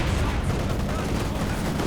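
Heavy mortar and artillery barrages pound away in a Company of Heroes 2 2v2 match, a dense, continuous roar of overlapping blasts and gunfire filling the whole stretch at high volume.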